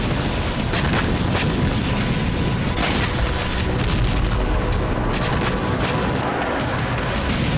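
Russian FAB bomb blasts and heavy fire in Kharkiv during the Ukraine war come as a dense, continuous roar of booms and crackling impacts, loud and unbroken, with no voices.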